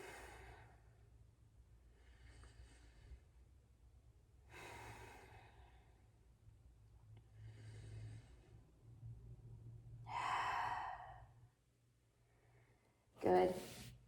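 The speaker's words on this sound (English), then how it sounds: "Inhale and exhale for 3." Slow, deep yoga breathing in a calm realignment session: several long, soft inhales and exhales in an even rhythm, close and quiet, ending with a sharper puff of breath.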